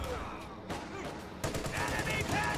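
An MG34 machine gun fires in a World War II strategy video game, rattling off bursts of rapid shots, with a busier and louder stretch toward the end under a voice talking over the game.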